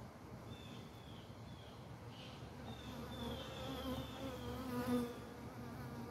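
A steady hum of bees buzzing close by, several insects droning continuously with rising and falling pitch as they move around.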